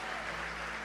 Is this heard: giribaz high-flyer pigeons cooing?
no